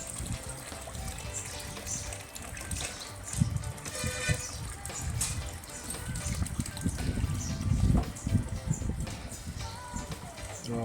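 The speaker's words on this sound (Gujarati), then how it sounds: "સ્પેશિયલ તાજા પાણીનો વાલ મૂકી ચાલુ કરો એટલે પાણી આવી જાય" Fresh water flowing from an opened valve in a mares' stable, a continuous splashing and trickling stream with thumps and handling noises, close by, with people talking faintly.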